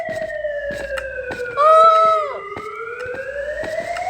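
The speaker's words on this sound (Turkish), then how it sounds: "Aa polis sirenleri var ama." Police sirens in the Cancraft/Minecraft video game, a steady wailing tone that rises and falls with a brief louder warbling burst in the middle, alone and fairly loud over light ticking game noise.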